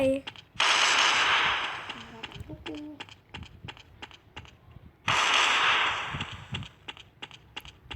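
Gunfire in a shooting video game comes in two long loud bursts of rapid automatic fire, with sparse single shots and clicks between them, while players talk throughout.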